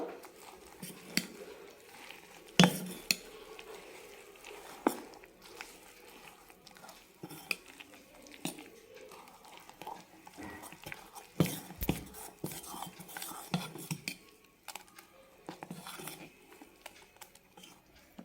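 Batter for vegetable paddu being stirred with a spoon in a bowl after a teaspoon of sugar goes in, giving soft irregular scraping and clinking taps close by, with no talking.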